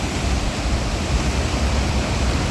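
A rocky waterfall in Munnar during heavy rain gives a dense, unbroken hiss and roar of rushing water, loud and close, with no other sounds.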